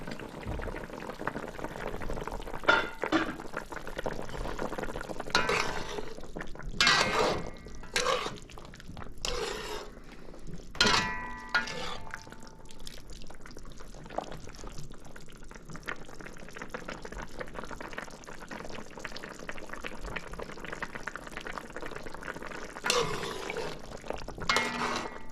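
Guyanese snapper stew with aloo bubbling in a pot: continuous simmering, gurgling and sizzling with occasional stirring clatter and spoon knocks, steady and close throughout.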